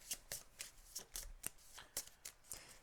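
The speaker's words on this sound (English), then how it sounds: "shuffle the encounter deck" A deck of cards riffled and shuffled by hand during a tabletop campaign game, about ten quick, crisp bursts in an uneven rhythm, close and fairly quiet.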